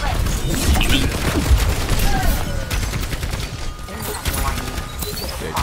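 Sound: gunfire in the video game Overwatch 2

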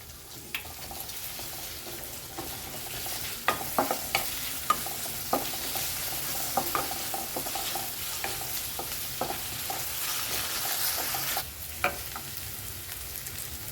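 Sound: onion and ginger-garlic paste sautéing in a pan

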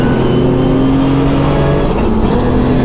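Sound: car accelerating through gears on a 4-mile race track

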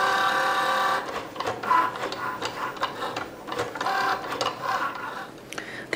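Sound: Cricut cutting machine cutting vinyl

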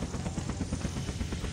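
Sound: helicopter landing on a beach in the video game Unturned

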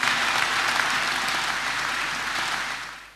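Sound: applause, clapping for Jesus Christ

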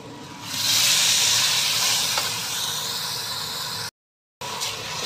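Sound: sautéing spices in a pan for pork pot rice

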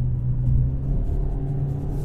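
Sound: car petrol engine running

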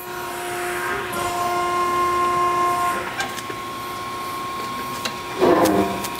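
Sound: Baykal hydraulic press brake bending metal

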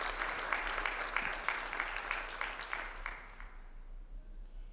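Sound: audience applause

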